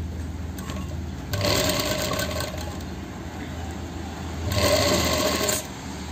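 A sewing machine stitches the pocket of a belted shalwar in two rapid whirring bursts separated by a quieter pause, close and loud.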